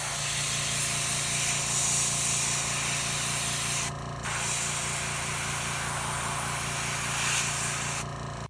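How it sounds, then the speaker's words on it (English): Sandpaper rubbing along the seam of a plastic 1/1000 scale Polar Lights USS Enterprise model kit, a steady close scratchy hiss with a brief pause near the middle. "So we'll just clean it up with a little bit of sandpaper."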